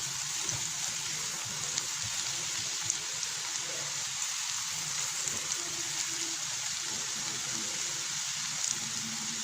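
Ginger, garlic and onion frying in a pan with chicken for a spicy restaurant-style karahi, giving a steady, even sizzle and crackle throughout with faint scattered pops and no talk.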